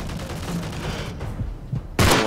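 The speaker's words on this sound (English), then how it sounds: "Let me give you some cover fire here." Rapid gunfire from a co-op mission in Modern Warfare 3, a dense, continuous crackle of shots with a sharp, loud burst near the end.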